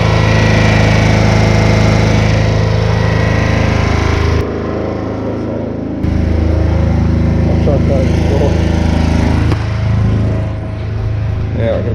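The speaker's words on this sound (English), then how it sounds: "It's the generator I picked up." A cheap portable generator drones loud and close, its engine running steadily with a rough mechanical buzz and a couple of brief dips in level.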